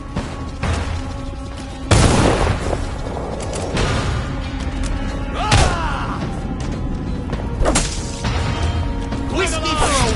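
Gunfire and combat effects in the Dishonored video game: a few sharp, loud shots and heavy thuds spaced several seconds apart, mixed with clattering and game sounds under shouting voices.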